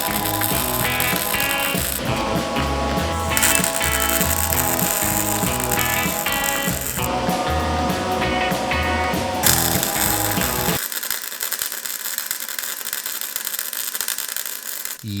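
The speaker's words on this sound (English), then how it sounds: "I'm going to turn this machine all the way up and I'm going to try to burn in some 1/2 inch plate" A Vulcan MigMax 215 MIG welder at full power lays a bead on 1/2-inch steel plate, giving a loud, steady, dense crackling hiss for about ten seconds before it cuts off to quieter room noise.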